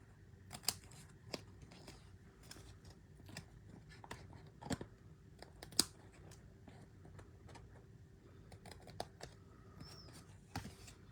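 Scissors trim the bottom edge of paper for a stamped card project, a series of faint, close, crisp snips spaced irregularly, with no talking.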